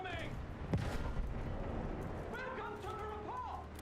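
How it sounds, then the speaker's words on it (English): Tank cannon and gunfire in the video game Battlefield 1, aimed at a distant farm building, with a sharp blast early on amid a busy, noisy battlefield wash and rising whistling tones late. "So I'm just taking some pot shots way down over there at the farm building."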